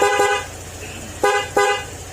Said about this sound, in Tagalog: Tapos stock horn. Loud horn.